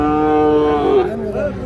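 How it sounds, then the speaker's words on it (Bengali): A Sahiwal bull calf at a cattle market gives one close, drawn-out moo that lasts about a second and then trails off into a rougher, wavering tail. "শাহিওয়াল সার বাছুর।"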